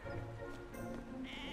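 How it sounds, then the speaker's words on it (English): Sheep bleat in the How to Train Your Dragon: Dawn of the New Riders video game, a couple of clear, wavering calls standing out over steady game music and ambience. "Oh, sheep."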